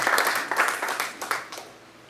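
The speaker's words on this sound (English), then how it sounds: "A big round of applause for" An audience at a classical music event applauds a senior maestro on stage, a steady wash of many hands clapping that gradually fades toward the end.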